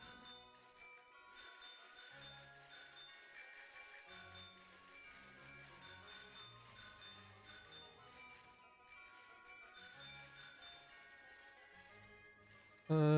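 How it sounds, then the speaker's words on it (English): A bicycle bell rings repeatedly in the Pokémon Sword video game, bright chiming strikes over steady game music and background tones, ending in a louder burst. "I can ring the bell"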